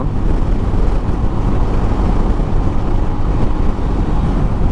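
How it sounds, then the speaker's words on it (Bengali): Strong wind roars steadily against the microphone while riding a motorbike on an open road, a loud continuous buffeting rumble with no talking, gusts pushing from left and right. "প্রচুর বাতাস বাতাসে ধাক্কা দিতেছে একবার ডাইনের থেকে একবার বামের থেকে"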